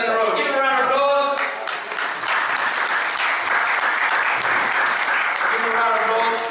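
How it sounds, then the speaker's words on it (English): An audience gives a round of applause at a live show, with dense, continuous clapping throughout and a voice heard briefly at the start. "Give him a round of applause."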